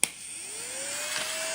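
A vacuum cleaner starts with a sharp click and settles into a steady whine that rises in pitch as the motor spins up, running alone at a moderate level.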